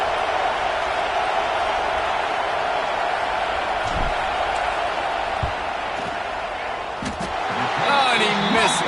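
Dense stadium crowd roaring steadily at a college football game as the kicker lines up a fourth-down field goal attempt, loud and continuous with a few sharp claps and thumps, swelling near the end.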